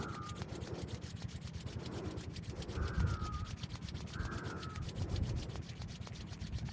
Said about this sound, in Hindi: पुनः दोनों हथेलियों को आपस में रगड़ते हैं।